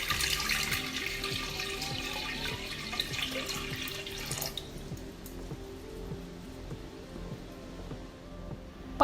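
Water runs and splashes steadily into a cooking pot (handi) for a mixed vegetable water pickle, a continuous pour that thins out midway into softer trickling, with no voices.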